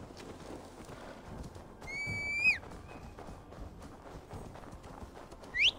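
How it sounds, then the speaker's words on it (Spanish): A summoned horse in Assassin's Creed Valhalla gives a loud rising whinny, then another sharp neigh near the end, with soft hoof clip-clops and faint game ambience between. "no estoy acostumbrado a llamar al caballo"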